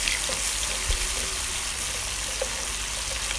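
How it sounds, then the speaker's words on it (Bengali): Chopped onions and chilies fry in hot oil for Malaysian nasi goreng ayam, a loud continuous sizzle close up with small pops and stirring scrapes throughout. "দিয়ে আমি আস্তে আস্তে আরও ভালো করে ভেজে নিছি।"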